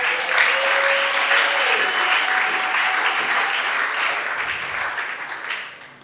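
A church congregation at a Sunday service applauds loudly and steadily for about six seconds, a dense wash of clapping that thins and fades at the very end.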